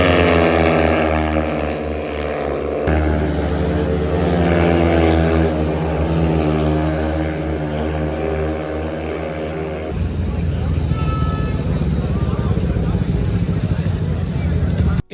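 Speedway bikes at full throttle during the 2024 Speedway Grand Prix of Germany in Landshut, a loud continuous engine roar with strong rising and falling tones, heard close and alone.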